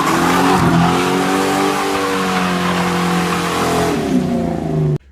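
A Ford New Edge Mustang engine revs loudly and close, harmonic drone rising and falling through several pitch sweeps before cutting off abruptly, heard alone without talk.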